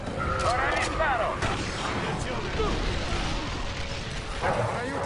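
An artillery bombardment in The Bureau: XCOM Declassified: continuous rumbling blasts and crackling impacts fill the whole stretch, dense and heavy, with a voice speaking over the barrage.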